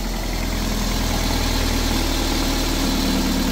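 A Toyota MR2 Mk3 engine idles steadily after an exhaust repair, a smooth, even low hum with a fine regular pulse, loud and close, running alone without talk.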